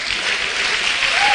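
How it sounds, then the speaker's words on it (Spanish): A church congregation bursts into steady, dense applause during a sermon, the clapping broad and continuous for the whole short stretch with no pauses. "Denle un aplauso al Señor."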